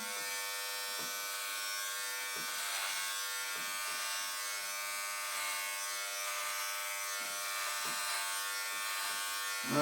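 Electric hair clippers fitted with a half-inch guard cutting hair, a constant close-up buzzing hum that holds steady throughout with slight dips as the blades pass through hair.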